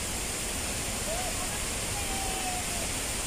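Maria Cristina Falls, a waterfall, gives a steady, even roar of rushing water that fills the background evenly from start to end without any breaks.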